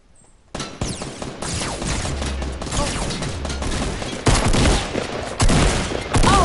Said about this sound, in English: Yeah, I hear shooting.